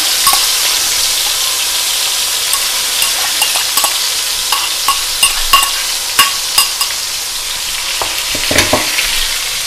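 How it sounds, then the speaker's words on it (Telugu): Onion paste fries and is stirred in a pan for a fish curry, with a steady sizzle throughout and the spoon scraping and clinking in irregular taps, growing busier toward the end. "ఆనియన్ పేస్ట్ వేస్తాను అనమాట"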